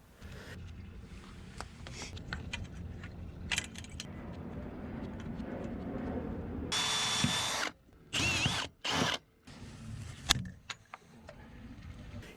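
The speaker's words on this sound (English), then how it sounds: "filing and then drilling holes for rivets make for a fully assembled Bimini bow" A power drill bores rivet holes in stainless steel tubing for a boat's Bimini bow, with a few short, sharp bursts of drilling amid softer handling clatter, close and without speech.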